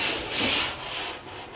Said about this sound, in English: So we're just going to drag along the wall.